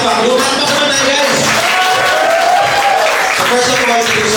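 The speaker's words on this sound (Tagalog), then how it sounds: "Ladies and gentlemen, parang may name palakpak. Palakpak naman na guys." Audience applause at a sales orientation for new wholesalers, steady clapping and crowd noise filling the room throughout, with some voices mixed in.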